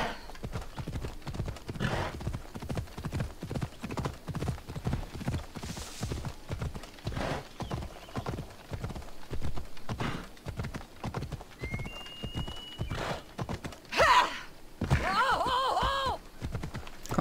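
Horse hooves clip-clopping steadily in Assassin's Creed Odyssey, a rhythmic run of close hoofbeats with occasional neighs and snorts, brief speech near the end.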